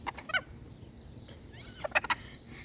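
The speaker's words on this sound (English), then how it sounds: "This one is a phoenix chicken." A Phoenix hen in a backyard coop gives several short, sharp clucking calls in quick bursts near the start and again toward the end, fairly close against quiet background noise, no voices.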